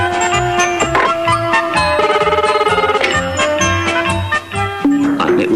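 Old telephone ringing in a repeated electric trill under a busy, jangling musical backdrop, the rings sounding in short bursts through several seconds.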